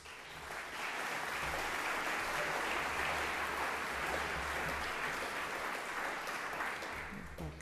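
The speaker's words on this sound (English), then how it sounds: "could you please stand up and we can give you the deserved round of applause" Applause for journalist Katrina Fox at a media prize ceremony swells quickly and holds as a full, even roomful of clapping before tapering slightly at the end.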